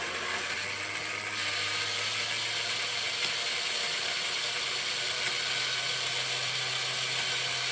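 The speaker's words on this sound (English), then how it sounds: "Okay, the motor's turning." A small electric motor in a refurbished TOMY DingBot toy robot runs steadily and turns its gears, giving a continuous close whir and grinding hum that holds for several seconds with no talking.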